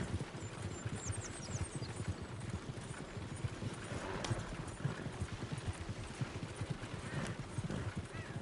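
Horse hooves clip-clop steadily on a trail in the Red Dead Redemption 2 video game, a continuous rhythmic gait close by with a faint neigh and quiet background ambience.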